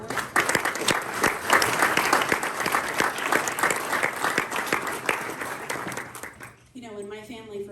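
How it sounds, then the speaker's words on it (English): An indoor audience gives a short round of applause, dense steady clapping at close range for several seconds before it fades and a voice begins speaking near the end. "give them a short round of applause"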